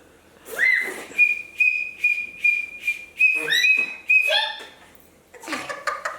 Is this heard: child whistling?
yes